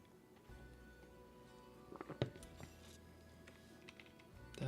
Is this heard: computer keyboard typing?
yes